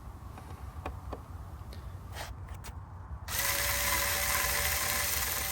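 Power screwdriver driving screws into a wooden sun lounger, first a few short ratcheting clicks and bursts, then a steady loud whir of the driver running continuously, close up with no talking.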